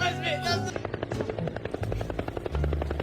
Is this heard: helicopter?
yes